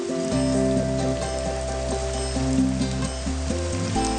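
Rain pours steadily onto surfaces in a dense hiss, joined by sustained low tonal music beneath it, with no talk.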